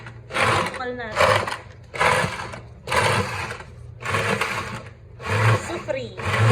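A blender whirs through a mango shake with ice and sugar in short repeated bursts, about seven loud pulses with brief pauses between, and voices speak in the gaps.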